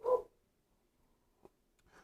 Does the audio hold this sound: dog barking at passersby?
yes